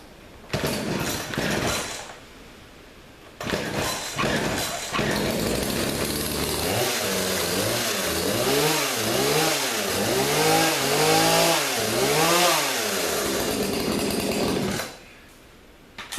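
Two-stroke chainsaws, a 38cc Earthquake and a Husqvarna 240, run loud and close: short bursts at first, then an engine idling before repeatedly revving up and dropping back in a rising-falling rhythm, then cutting off.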